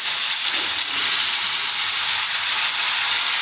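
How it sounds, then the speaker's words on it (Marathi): Ridge gourd hits a hot pan already holding onion and tomato for a home-style vegetable dish, and a steady, loud sizzle and hiss of frying fills the whole stretch without pause. "आता दोडकं टाकते बघा."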